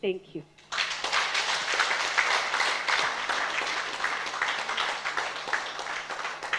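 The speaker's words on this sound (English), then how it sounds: "another round of applause" After a brief spoken thanks, conference attendees at a women's leadership event break into sustained applause, a full, lively room of clapping with a faint background hum.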